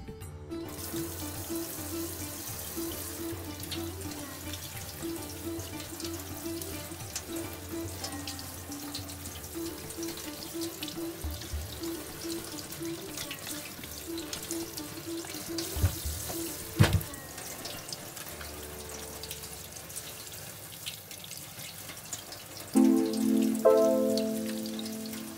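Tap water runs steadily over whole onions with their skins on, a soft continuous splashing with a few brief clunks from handling, growing louder near the end.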